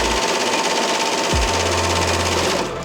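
An embroidery machine stitches around a patch with a loud, steady, fast mechanical whirring hum that briefly shifts pitch partway through and carries on alone.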